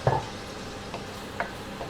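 Onions fry quietly in a pan as a utensil stirs them, with a few soft scrapes and taps over a low, even sizzle.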